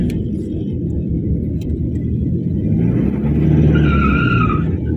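On a hairpin curve, a car shifts down into second gear, its engine rumbling with tyre scrub and a brief high squeal, heard up close and fairly loud.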